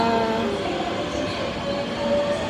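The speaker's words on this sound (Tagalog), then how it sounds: "Nasa tamang train na tayo guys." Interior rumble of a Japanese commuter train in motion, a steady loud rolling roar with faint wheel rhythm and tonal whine throughout, no talking.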